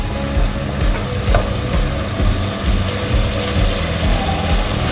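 Tomatoes tipped into onions frying for chicken biryani set off a steady, loud sizzle, with scraping and stirring clatter in an uneven rhythm throughout.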